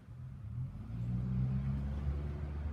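A mail carrier's vehicle arrives, its engine a low rumbling drone that rises and holds steady at moderate distance, fairly quiet and alone.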